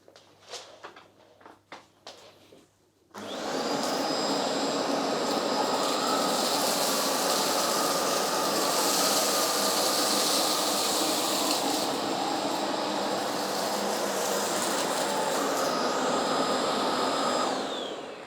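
A vacuum cleaner with its brush bar switched on, run over deep pile carpet to pick up spilled ice, crackers and cornflakes: a few light clicks, then the motor starts abruptly and roars loud and steady with a whining tone until the end.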